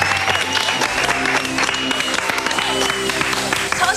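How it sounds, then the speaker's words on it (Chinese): A cooking-show studio audience applauds loudly and steadily throughout, dense clapping mixed with crowd noise and music. "掌声鼓励。"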